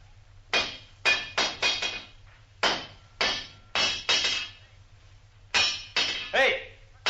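A blacksmith hammers metal in a series of sharp, ringing strikes that come in uneven bursts of two and three, fairly close and loud, with brief pauses between groups.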